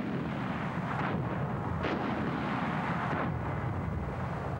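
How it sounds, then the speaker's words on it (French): A gunpowder explosion clearing a passage in an animated cartoon, heard as a loud, sustained roaring rumble with a few swelling surges, continuous throughout. "La poudre a bien explosé, le passage est dégagé."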